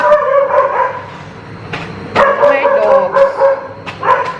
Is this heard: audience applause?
no